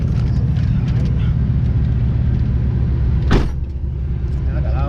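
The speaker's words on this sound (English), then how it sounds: "let me wind it out just a little bit, just to be able to hear to the outside of the car" A car's engine drones and revs steadily while driving, with low broadband rumble throughout and a brief sharp burst near the end.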